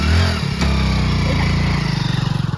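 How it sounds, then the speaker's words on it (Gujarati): A motorcycle engine runs steadily close by after starting, a low rhythmic idle chug with a brief rev, no talk over it. "હું ચાલુ કરું બાઈક"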